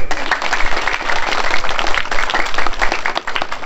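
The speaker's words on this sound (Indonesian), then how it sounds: "Tepuk tangan dulu." Children at a village aid handover in Indonesia clap together in a dense, steady burst of applause that fills the whole stretch at close range, with no pause.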